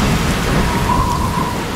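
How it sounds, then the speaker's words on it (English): Heavy tropical thunderstorm rain pours steadily and loudly, with a dense, constant roar close by and rumbling beneath it throughout. "Singapore may one day experience the destructive tropical storms plaguing its northern neighbors"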